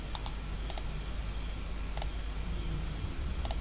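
Computer keyboard keys click in pairs, a few light double-taps spread evenly over steady background hiss, as in a paste shortcut followed by pressing enter.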